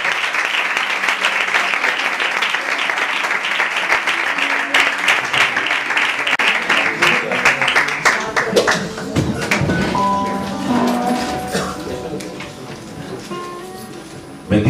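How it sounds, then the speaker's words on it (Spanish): A church congregation gives sustained applause to the Lord, dense clapping that thins out toward the end as voices and some music come in. "Un aplauso al Señor."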